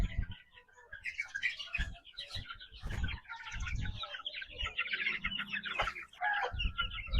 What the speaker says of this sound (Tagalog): Ato ang ato mga piso nga binabreed.